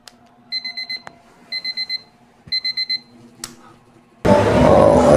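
An alarm clock rings in three bursts of rapid, high electronic beeps, then cuts off as a loud rush of running water begins.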